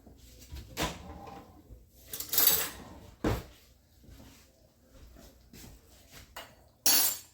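A kitchen drawer or cupboard is opened to fetch a spoon while making chicken soup with Parmesan, giving several separate knocks, slides and metallic clinks spaced over a few seconds, quiet and close.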